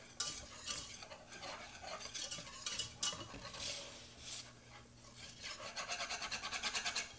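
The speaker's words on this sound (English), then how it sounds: "So you add 1/4 cup of flour. You just kind of want to stir that in." Flour is stirred into melted butter in a pan, a quiet close scraping and rubbing of a utensil with a faint sizzle, ending in a quick rhythmic series of strokes.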